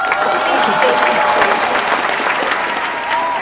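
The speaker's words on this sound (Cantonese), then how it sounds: "掌聲幾多喎？" Dense applause with scattered cheers fills the whole stretch at steady strength, a whistle-like tone threading through, likely added as a playful cheer after a food-tasting moment in a Shenzhen restaurant.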